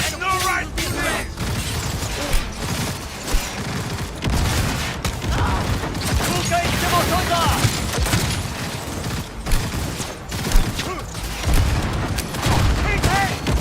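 Sustained bursts of gunfire and booms in the video game Cyberpunk 2077, loud and dense throughout with shouted voices mixed in over the shooting.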